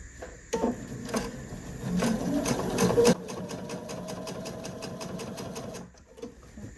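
A sewing machine stitching binding onto a quilted picnic placemat, running in a steady close mechanical whir with a rapid needle rhythm, a few heavier thumps early on, then easing off near the end.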